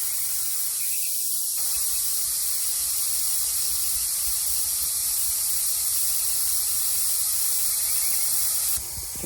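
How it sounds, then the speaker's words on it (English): Air rushing out fast from a tire punctured by a screw, a loud continuous close hiss that holds steady throughout, with no talking. "y'all can hear that air coming out fast"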